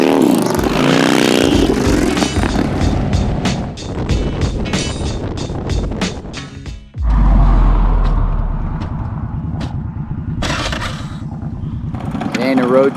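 Motorcycles rumble and rev loudly on an Arizona road trip, with engines accelerating and changing pitch, and wind noise rushing past along the ride.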